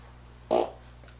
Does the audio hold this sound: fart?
yes